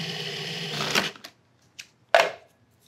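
A food processor pulsing cookie dough for ice cream cookie sandwiches: a sustained whirring burst that cuts off, followed by two short separate pulses, then silence.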